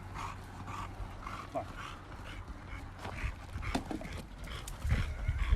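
A muscular dog runs loose on open ground, its quick paw falls and panting coming through as a scattered patter with soft thuds, fairly close, while there is no speech.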